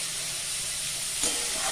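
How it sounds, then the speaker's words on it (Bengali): Tomatoes fry with vegetables in a pan, giving a steady close sizzle and hiss that briefly flares louder partway through. "টমেটোগুলো একটু ভাজা ভাজা আবার করে নেবো"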